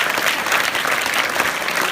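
Loud, steady applause from an audience at a student election result announcement at an Urdu school in Bhusawal, a dense continuous wash of clapping filling the whole moment.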